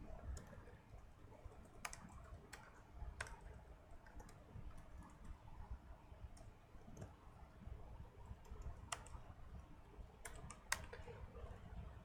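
Typing on a computer keyboard at a command line: sparse, faint key clicks come in small bursts over a low background hum, with no talking.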